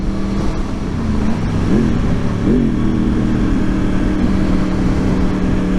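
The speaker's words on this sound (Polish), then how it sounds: "No, głośny, głośny to jest, nie odmówię mu tego, ale muszę też przyznać, że e, bardzo przyjemna charakterystyka pracy silnika, jeśli chodzi o wydobywający się dźwięk" Yamaha R1 RN22 motorcycle engine running loudly and steadily throughout, with a couple of brief rises in pitch as it revs, no talking.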